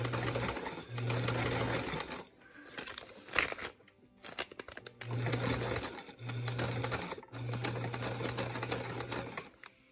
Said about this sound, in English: I'm just going to sew right over the end, right down into